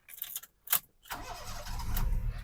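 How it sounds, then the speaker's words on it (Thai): A 2005 Honda Jazz engine cranks briefly after a few clicks, then catches and settles into a steady low idle that grows slightly louder. "เครื่องยนต์นะครับผมสตาร์ททีเดียวติด เครื่องเดินนิ่งเรียบ"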